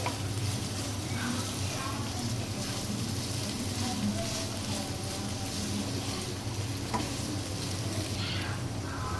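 Chicken fry sizzles and crackles continuously in a hot pan while being stirred, with occasional scraping of the spoon over the dense frying hiss.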